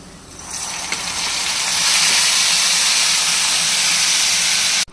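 Washed red amaranth greens dropped into hot oil with dried chillies, bursting into a loud, rising hiss that stays strong and steady for several seconds before cutting off sharply.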